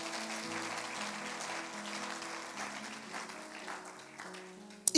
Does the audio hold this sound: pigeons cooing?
no